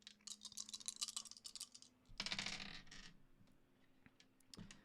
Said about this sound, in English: So I'm going to roll 4 dice anyway